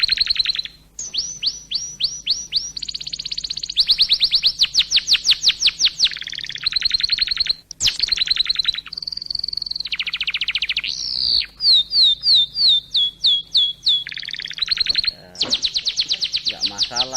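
Sooty-headed bulbuls (kutilang) chirp busily during an evening bath, rapid repeated high tweets and trilling calls close to the microphone, loud and nearly continuous with short pauses.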